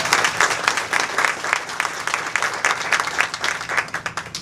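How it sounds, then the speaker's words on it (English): An audience claps in sustained applause, a dense rolling patter of many hands that swells and eases throughout, close and fairly loud, with no one speaking over it. "I want to give an applause to this amazing audience"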